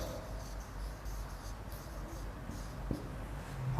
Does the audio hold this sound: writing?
yes